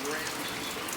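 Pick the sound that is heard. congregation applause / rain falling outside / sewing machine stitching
rain falling outside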